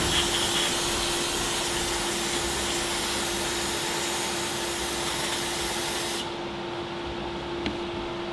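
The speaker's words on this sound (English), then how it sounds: "That's soaking it in brake clean." Aerosol brake cleaner hisses in one long continuous spray onto a BMW E46 M3 engine part during rod bearing work. Steady and fairly close, it cuts off abruptly near the end, leaving a quieter background hum.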